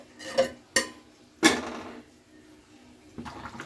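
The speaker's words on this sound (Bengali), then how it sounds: "এইভাবে নাড়িয়ে আবার চাপা দিয়ে দিতে হবে ঢাকনাটা। ঢাকনাটা আমি চাপা দিয়ে দিলাম।" A metal lid clatters onto a pot of chicken-feet curry on the stove, with a few sharp clinks followed by a louder clank, then quiet kitchen noise.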